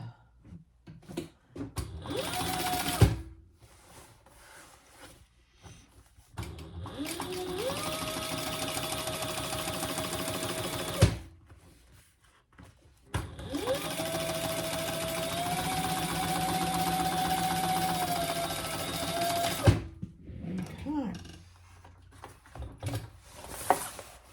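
Sewing machine topstitching a crossbody bag, running in several sustained bursts of steady motor whir with brief pauses and thumps between runs, close and clear with no talking.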